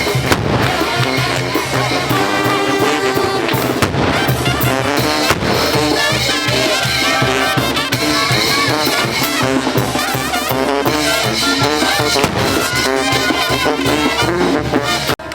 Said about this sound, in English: I think it's just like old guns and gunpowder